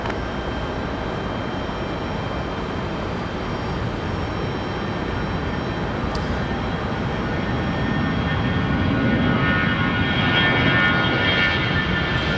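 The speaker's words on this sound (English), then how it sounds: "T3 right, clear for takeoff, American 3045." An American Airlines airliner roars down the runway on takeoff at Raleigh-Durham International Airport, a loud, steady broadband engine rumble building slightly toward the end, with no talking.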